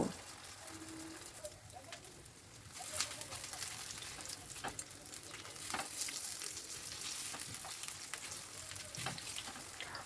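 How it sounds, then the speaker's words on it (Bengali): Semolina snacks fry in hot oil in a well-heated pan, giving a soft, continuous sizzle with intermittent crackles and stirring clicks at low volume. "পরেরগুলো ভাজতে আর বেশি সময় লাগবে না, কারণ প্যানটা তো বেশ ভালো করেই গরম হয়ে গেছে"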